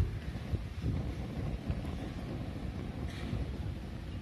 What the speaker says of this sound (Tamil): காற்று பயங்கரமாக இருக்குதுங்க.